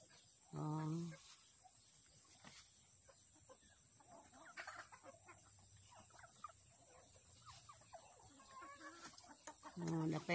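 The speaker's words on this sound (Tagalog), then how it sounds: "napay daghan diri sa ubos nga manok" Chickens cluck in short, loud bursts at the start and end of a flower garden, with quieter scattered bird calls and faint background noise in between.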